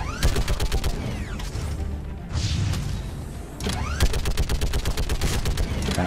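Mounted gun turret in Mass Effect 3 hammering out rapid, evenly spaced heavy rounds in two long bursts, with a brief lull of rumbling battle noise between them; loud and close.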